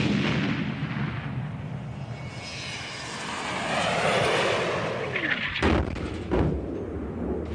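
A land-speed-record rocket sled fires its rockets in a loud, sustained roar with deep rumble, swelling midway and ending in a couple of sharp, blast-like bursts.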